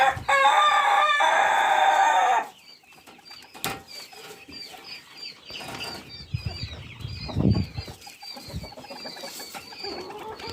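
A rooster crows loudly at the start, then chickens cluck and chatter intermittently at moderate volume for the rest of the clip, inside a henhouse.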